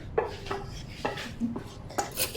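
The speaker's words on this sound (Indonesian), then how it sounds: "Kami masukkan semua mie di dalam piring besar." Dishes and utensils clatter in a home kitchen as instant Indomie noodles are transferred onto a large plate, with a few sharp, close clinks spaced about a second apart and no talking.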